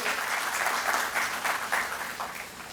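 Sustained applause from the audience at the inaugural function of a climate and tropical meteorology conference, a dense, steady wash of many hands clapping throughout, with no talk over it.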